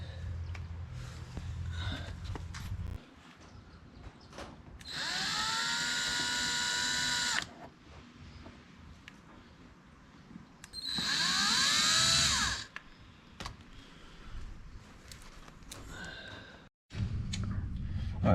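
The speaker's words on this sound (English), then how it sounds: "switch to the little bit bigger drill bit to make a bigger hole" A power drill with a larger bit enlarges a hole while fitting canards on a Dodge Challenger. Two separate bursts of whining drilling, each a couple of seconds long, stand out between quieter stretches of handling noise.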